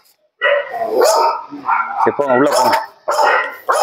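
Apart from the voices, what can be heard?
dog barking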